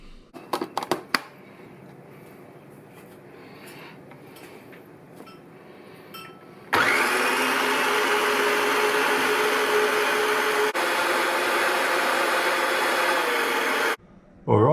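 A blender whizzes a mung bean and espresso coffee mixture, its loud steady whirring motor running continuously for about seven seconds, stopping briefly, then starting again, after some earlier clinks and light handling of the lid.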